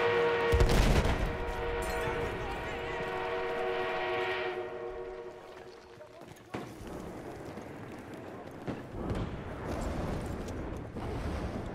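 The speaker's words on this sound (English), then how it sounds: "An armored train en route." Armored train rolling along rails in Battlefield 1, a sustained low rumble with a horn-like harmonic tone early on, then quieter rumbling broken by sharp game impacts.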